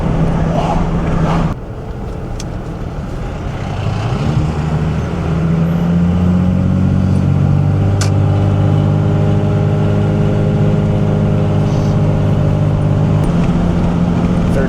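A 1990s Dodge truck hauling heavy equipment, its engine droning steadily and close. The pitch settles after a shift and then holds a constant hum, with no talk over it.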